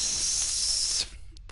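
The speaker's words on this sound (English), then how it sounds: "this nozzle in the wall. It's spraying the smell of hot sweat over everything." A wall nozzle in a science-fiction radio comedy gives off a loud, steady spray hiss that stops abruptly after about a second, followed by a few faint short sounds.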